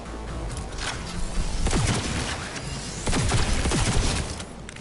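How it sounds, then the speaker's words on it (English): Turrets firing in the video game Cyberpunk 2077, rapid bursts of gunfire with booming impacts in two loud waves over a rumbling background, no talking. "And those are turrets."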